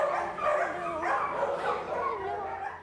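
Many shelter dogs bark, yip and whimper together in a continuous overlapping chorus that is moderately close, with the busy noise holding steady throughout.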